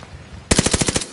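A rapid burst of about eight gunshots rings out in a multiplayer shooter video game, loud and close, following a short stretch of quiet background noise.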